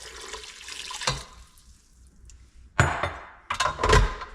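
Two and a half cups of hot water pour into a bowl for bread dough, heard as splashing and trickling bursts with knocks of the container, near and moderately loud, with no voices.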